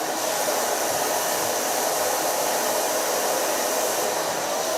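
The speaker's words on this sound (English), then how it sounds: "Start blow drying" A hair dryer blows steadily on a cropped pixie bob during a hair-styling session, with a constant close airy roar that runs unbroken throughout.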